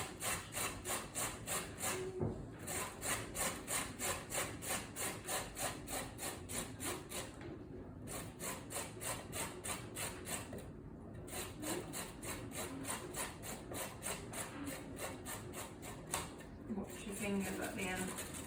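Older carrots rubbed against a kitchen grater in steady, rhythmic rasping strokes that carry on throughout, close and moderately loud, with a person talking over them.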